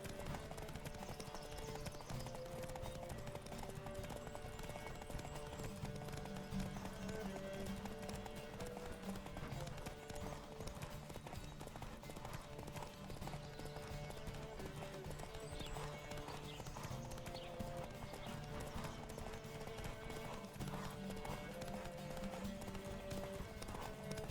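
A horse gallops in The Witcher 3, its hooves clip-clopping in a steady, fast rhythm that runs unbroken under a constant bed of music.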